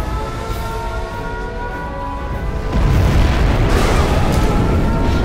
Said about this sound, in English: We have launched our nuclear missile.